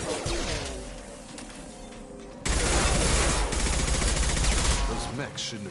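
Sustained automatic gunfire in Mass Effect 2 during a combat fight against hostile mechs, with a dense burst of rapid shots starting midway and continuing under game sound, with voices talking in the background.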